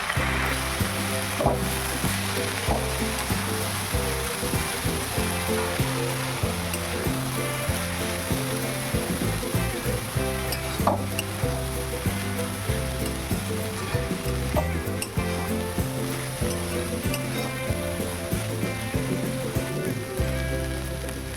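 Cabbage curry with chilli powder sizzles and fries in a pan, a dense continuous crackle with occasional scraping stirs, close and steady throughout, with no speech.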